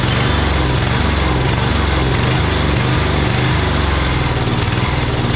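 A Snapper Extra Tough Series 6 riding mower engine roars loud and close without pause, its revs swelling and dropping in a steady, rhythmic surge.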